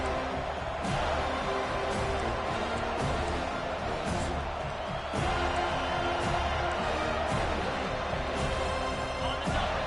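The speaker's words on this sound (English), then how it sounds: "This crowd even louder now on 2nd down as they try to hold on." A stadium crowd roars steadily in the background of a College Football 25 video game, TCU at Florida State, swelling louder partway through on second down, with a commentator's voice talking over the noise.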